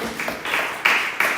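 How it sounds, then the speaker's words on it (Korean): A brief burst of applause from a young adults' church service audience, quick clapping in short waves that swells toward the end, with no talk over it. "39기 조영혜 양 박수 한번 주세요"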